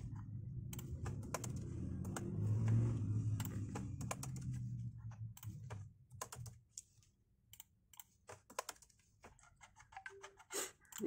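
Computer keyboard typing in MS Word, with key presses including the Enter key: dense clattering keystrokes early on, thinning to scattered separate taps, close and clear with no talking.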